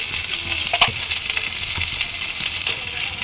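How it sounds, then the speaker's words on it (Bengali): A spice paste of chopped tomato, green chillies, chilli powder and turmeric frying over a low flame, a continuous dense sizzle with occasional soft scrapes of a spatula, close and fairly loud. "মশলা একটু ভালো করে আমি কষিয়ে নেবো"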